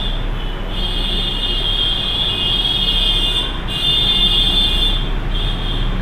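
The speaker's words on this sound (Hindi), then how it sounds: "शौक है अलार्म बजाने का" An alarm rings in a room as a steady, shrill electronic tone that breaks off briefly a few times, with constant background hiss.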